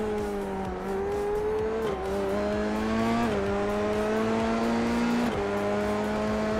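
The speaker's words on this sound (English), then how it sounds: "the engine noise does go up to 11" Formula 3 race car engine in a sim racing game at Phillip Island, loud and continuous, climbing steadily in pitch through the gears with brief dips at each of four upshifts, a dense screaming drone with no voices.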